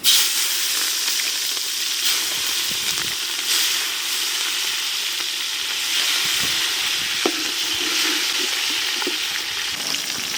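Chopped green chillies fry in oil with cinnamon, cloves and cardamom, giving a close, steady sizzle with brief stirring clicks throughout.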